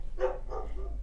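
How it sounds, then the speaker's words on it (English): A dog barking in the background indoors, giving two short muffled barks at moderate distance over a low steady hum. "you will probably hear the dog barking in the background"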